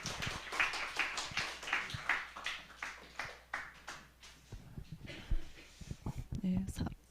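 A church congregation at a Korean Sunday morning service clapping to welcome a speaker, a burst of applause that fades, followed by quieter taps and shuffling.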